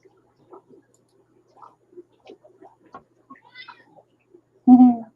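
Soft scattered rustles and small sounds give way to a single loud, clear cat meow near the end.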